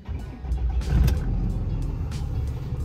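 A Cummins diesel pickup truck engine starts and settles into a steady, close, low rumbling idle that swells slightly after the first second and holds evenly, with no talking.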